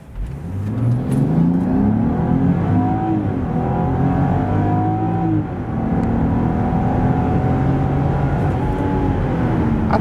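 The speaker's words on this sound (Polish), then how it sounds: "Po wciśnięciu gazu do oporu można wykrzesać takie maksymalne osiągi, tak samochód przyspieszy od 0 do setki." A 2023 Land Rover Discovery with a 3.0-litre, 360 hp engine accelerates at full throttle from a standstill. The engine note climbs steadily, loud and continuous, with one brief dip like a gear change.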